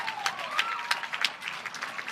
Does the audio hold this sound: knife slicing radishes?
no